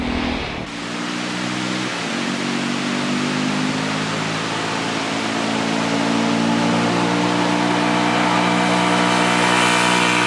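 A Honda CL250 single-cylinder motorcycle engine drones steadily while riding, its low, throbbing hum holding an even pitch after a brief shift near the start, with rushing air mixed in and no talking.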